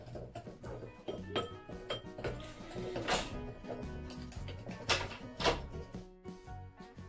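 Ingredients for fried tilapia are stirred together in a bowl, giving a busy, continuous run of close scraping, tapping and rattling with sharper clinks now and then.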